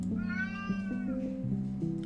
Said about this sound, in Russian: И теперь кролик ей важнее, чем бедный котенок Майло.